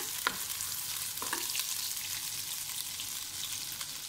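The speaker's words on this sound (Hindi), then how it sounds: "डाल देंगे अदरक लहसुन का पेस्ट, थोड़ा सा इसे भूनेंगे" Ginger garlic paste sizzles in a pan while a spoon stirs it. Quiet, steady frying hiss sits close, with a few scraping taps of the spoon against the pan.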